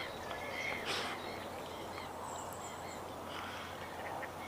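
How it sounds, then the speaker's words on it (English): Gulls call faintly in the distance, with a few honking cries rising over a steady outdoor background hiss. "Although you will miss the gulls."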